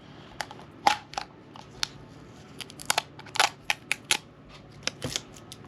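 A penny scrapes a sticker off a plastic Tic Tac container, making irregular close scratchy clicks and short rasps in bursts against a quiet background.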